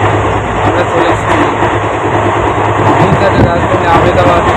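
Inside the Shalimar Superfast Express, a loud steady rumble of the running train fills the carriage, with people talking over the rolling noise.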